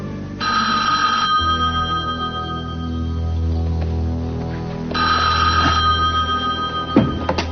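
A telephone rings in repeated bursts, loud and close, with a pause between rings and no talking over it.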